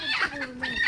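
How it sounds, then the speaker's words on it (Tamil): A hen clucks nearby in a rural yard, a short run of rapid, nasal cackling notes over faint background noise, close and moderately loud. "இங்கே ஒரு கோழி ஓடி போச்சுப்பா"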